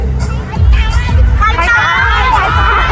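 A crowd of fans at a live event shouts and cheers together in a loud, dense roar, with overlapping excited voices rising and falling over about three seconds.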